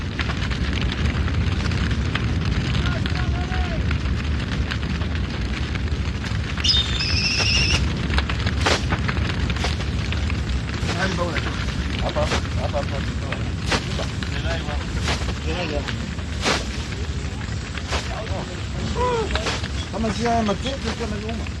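A grassland fire burning in Ngorongoro gives a steady, loud low roar with scattered crackles and pops, heard beneath a narrator's voice.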